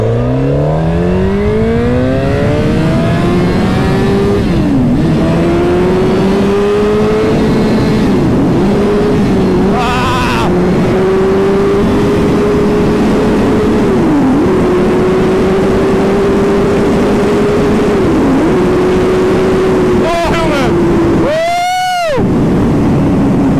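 A Suzuki GSX-R1000 motorcycle accelerates hard on a race track, its loud engine note climbing steadily through the gears with brief dips at each shift, then a close, sharp burst near the end.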